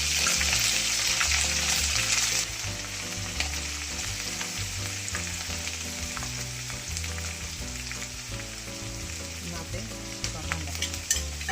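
Garlic, ginger and chili paste sizzles loudly in hot oil with cumin and asafoetida for a Gujarati soya wadi curry, a dense steady fry that drops a little after the first couple of seconds, with occasional stirring clinks.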